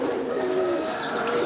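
A large, long-bodied Tomprang high-flying pigeon held in the hand gives a brief, close coo with a soft, breathy tone that is steady for about a second and a half.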